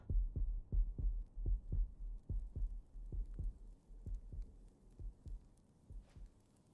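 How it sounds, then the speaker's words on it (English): Heartbeat rumble effect in a video game with Phoenix and Ifrit, a steady double-thump pulse of deep throbs repeating about twice a second, loud at first and slowly fading, with no talk over it. "the controller was making a heartbeat rumble"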